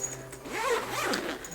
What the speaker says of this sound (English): if I can find the zippers